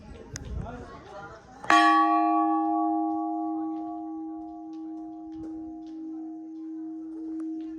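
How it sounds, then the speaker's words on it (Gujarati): After some brief background noise, a large temple bell at a Mahakali temple is struck once, loud and close, and its deep tone hums on for several seconds as it fades slowly. "અહીંયા બહુ મોટો વિશાળ ઘંટ છે"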